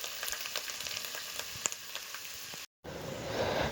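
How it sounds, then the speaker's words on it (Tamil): About 250 grams of onions frying in hot oil in a kadai for mutton kola urundai kulambu, a close, soft crackling sizzle that drops out briefly, then returns a little louder. "ஒரு கடாயில் எண்ணெய் சூடாயின அப்புறமா வந்து வெங்காயம் 250 கிராம் அளவு வெங்காயம் எடுத்துக்கலாம்"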